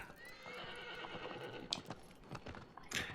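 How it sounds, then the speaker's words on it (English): A horse in the video game Shadow of the Colossus whinnies with a rising call over the clatter of hooves clip-clopping on the ground, fairly close and quiet, with a few sharper hoof strikes near the end. "Yeah, the horse,"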